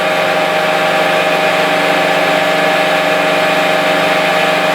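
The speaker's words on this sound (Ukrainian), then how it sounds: "Так, шліфуємо палець." A cylindrical grinder works a differential pin from a Ford F150 in a repair shop, giving a steady, loud mechanical whine and hum that runs without a break and with no talking.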